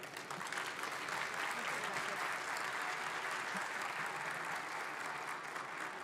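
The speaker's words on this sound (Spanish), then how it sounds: "pido un fuerte y caluroso aplauso" An audience gives warm applause at a medical expo recognition ceremony, dense continuous clapping filling the room evenly, soft in level and with no speech over it.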